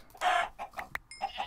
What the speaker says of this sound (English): Oh, there's more chickens.